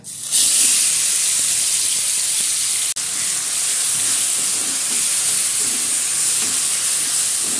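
Chopped onion, ginger, garlic, chilli and tomato hit hot oil with whole cumin and fry in a loud, steady, close hiss that carries on without a break and without talk.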